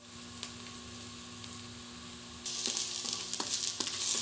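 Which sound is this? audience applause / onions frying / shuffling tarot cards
onions frying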